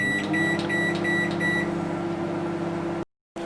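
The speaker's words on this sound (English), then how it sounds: "we're going to pop it into the microwave, and I'm going to set it for 4 minutes" A microwave oven hums steadily while heating taco mince, with a run of repeated beeps near the start, then the hum cuts out briefly before resuming.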